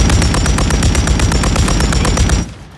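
Sustained rapid automatic gunfire in Warzone 3, a loud, close, evenly spaced stream of shots that stops abruptly near the end and leaves a faint tail.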